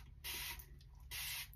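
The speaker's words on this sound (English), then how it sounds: "sometimes what you want to do with these is spray some water on it" A handheld spray bottle misting water onto a short silver wig, two bursts of hissing spray, close and fairly loud, separated by a brief pause.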